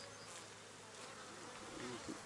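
Honeybees buzz on a hive frame, a dense, continuous hum that is steady and close throughout.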